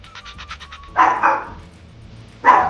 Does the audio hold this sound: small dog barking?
yes